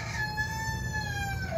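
Chickens on a farm in Jacksonville, Florida, give a sustained crowing call over a steady bed of farmyard noise, fairly near and moderately loud, with no talk.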